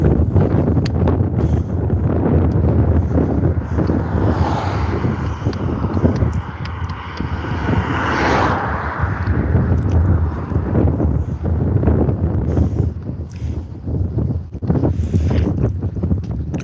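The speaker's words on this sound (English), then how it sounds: "it looks to me like the wind direction's changed somewhat" Wind blowing on Hollym beach, a constant loud roar buffeting the microphone with gusts rising and falling throughout, no talking.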